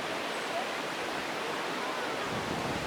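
A river flows through an Austrian–German mountain valley near the Sorgschrofen, a dense continuous rushing wash of water, close and loud, steady without breaks.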